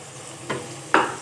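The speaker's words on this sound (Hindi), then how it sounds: "तो अब हम इसमें टमाटर ऐड करते हैं और उसकी भुनाई करते हैं" Tomatoes going into a pan of choliya keema with spices and frying, heard as two short sizzling stir bursts, the second louder, over a quiet background.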